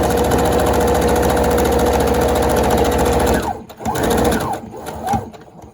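A sewing machine stitches elastic onto a fabric face mask, its motor whirring loudly and steadily for about three seconds before stopping, followed by a few softer handling sounds.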